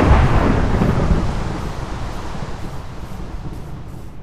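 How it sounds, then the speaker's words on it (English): A thunderstorm with rain in the video game Survivalcraft: a loud, close rumble of thunder that slowly fades into a steady wash of rain and wind noise. "it's a thunderstorm now"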